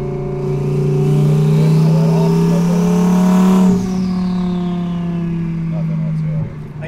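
Audi R8 with a twin turbo kit on an OEM reflash, engine held at a steady loud drone with rising revs, then a sharp lift-off and downshift into lower, burbling idle-like rumble, close and dominant with voices faintly underneath.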